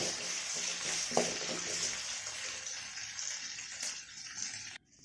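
Curry leaves and mint sautéing in a pan for vada curry, a soft continuous sizzle with a brief stir or scrape early on, fading away at the very end.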